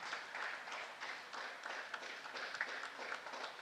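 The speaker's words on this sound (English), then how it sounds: "We see that audience is trying to cheer up athletes so that they could perform better." Steady applause from a crowd cheering on young women athletes at an air pistol final, a continuous soft patter of clapping that stays faint and even throughout.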